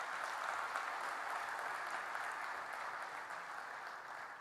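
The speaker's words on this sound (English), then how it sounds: "A round of applause for him." Steady crowd applause fills a large anniversary celebration event, a sustained wash of clapping at moderate-to-distant level that holds evenly for several seconds with no voices over it.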